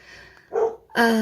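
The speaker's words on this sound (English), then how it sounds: "there goes my doggy Cheeseburger" A pet dog barks at a passing mail carrier in a home craft room, two short harmonic barks close to the microphone separated by a brief pause.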